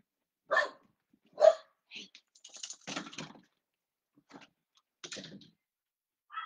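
A dog barks a few times nearby, sharp separate yelps with pauses between, amid quiet room sounds and some clattering.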